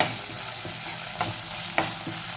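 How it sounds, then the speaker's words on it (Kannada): Cumin seeds sizzle in hot oil in a pan while a Kannada raw tomato chutney is being made. A steady crackling hiss runs throughout, broken by two sharp clicks of a spoon against the pan. "ಜೀರಿಗೆ ಹಾಕಿದ್ಮೇಲೆ ಜಸ್ಟ್ 2 ಸೆಕೆಂಡು ಜೀರಿಗೆನ ಫ್ರೈ ಮಾಡ್ಕೊಳ್ಳೋಣ"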